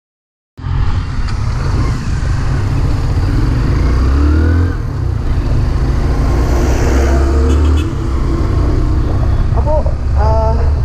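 A Hero Splendor Plus BS6 motorcycle being ridden, its small engine a steady, loud close hum with a slight rise in pitch as it speeds up, and wind rushing over it throughout.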